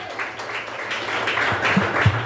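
Church congregation clapping at a worship service: a brief, moderately loud patter of many hands, with a few voices calling out underneath.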